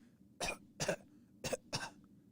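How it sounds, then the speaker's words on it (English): Four separate coughs in two pairs, as a person coughs into the elbow, each a short muffled burst, close and moderately loud against a quiet background with no talk. "if you cough into your elbow"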